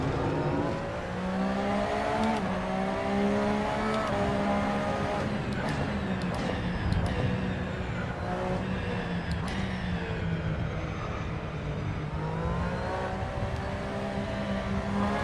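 A 2017 Porsche 911 RSR in a racing video game at Virginia International Raceway drones steadily through a corner, engine pitch dipping and rising as it drops a gear, continuous and close with no talk.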